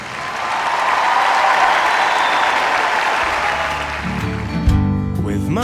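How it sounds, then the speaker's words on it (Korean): Loud, sustained applause from a large audience after Kim Yuna's figure skating gala performance, a dense clapping wash that swells early and holds steady, with music entering faintly toward the end. "피겨 여왕 김연아의 갈라쇼 연기에도 관중들은 가장 뜨거운 박수를 보내주었습니다"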